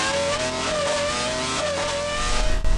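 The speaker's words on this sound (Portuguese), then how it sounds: "Quem quer sentar ao lado de um motor V10 de Fórmula 1 rugindo" A Formula 1 V10 engine mounted in a Renault Espace F1 revs hard and close, a loud, sustained high-pitched howl that swells slightly toward the end.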